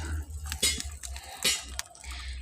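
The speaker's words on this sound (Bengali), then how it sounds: "মাছগুলো দিয়ে দিচ্ছি এখন।" Fish pieces dropped into a pot of simmering vegetable curry with bitter gourd, giving soft wet plops and a few clinks of a utensil against the pot over a low bubbling hum.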